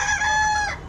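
On a poultry farm where the birds suffer eye damage from ammonia gas, a single loud, close chicken call holds a strained pitch and then breaks off, with no one speaking.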